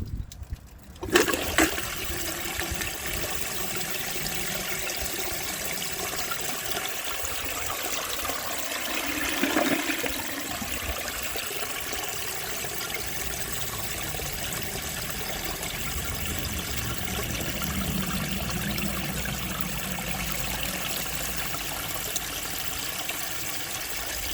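A 1902 Fleck Bros. Victor toilet with an overfilled tank flushes in a steady rushing wash of water that runs continuously, with a brief surge partway through, then a trickling refill.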